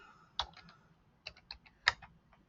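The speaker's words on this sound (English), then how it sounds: "we're going to type in" Quiet clicks of a computer keyboard as a few numbers are typed, arriving as sparse separate keystrokes in two short bursts, faint and close in a silent room.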